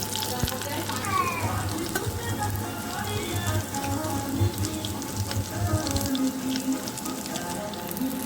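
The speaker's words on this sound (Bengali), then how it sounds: "এবার বড়াগুলো আমি উলট পালট করে ভেজে নেব।" Prawn fritters, made from small shrimp, frying in hot oil as they are turned over, giving a steady close-up sizzle and crackle with a low background hum throughout.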